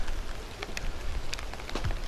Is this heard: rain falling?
yes